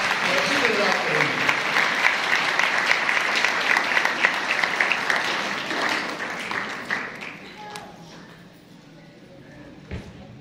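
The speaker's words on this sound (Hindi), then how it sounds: "इस उम्मीद की शम्मा के लिए भरपूर तालियां बजाएंगे" A church congregation claps loudly and steadily through a First Advent Sunday service, dense applause that thins and fades toward the end with a few scattered late claps.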